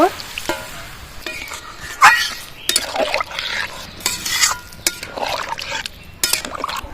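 Pre-heated hot water is poured into a pan of simmering cauliflower and potato curry, making uneven bursts of splashing and sizzling with a few clinks of utensils against the pan, close and fairly loud.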